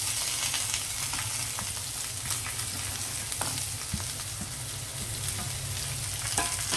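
Beetroot stir-fried with lentils in a pan, a steady close sizzle and crackle with occasional clicks of stirring, no talking.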